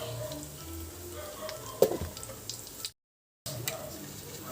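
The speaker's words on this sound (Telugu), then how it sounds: "దీంట్లో ఆయిల్ వేడెక్కింది ఆవాలు వేసాను ఎండుమిర్చి" Mustard seeds and dried red chillies sizzle in hot oil in a kadai, a steady low frying hiss with a sharp crackle near the middle and a brief dropout before the sizzle resumes.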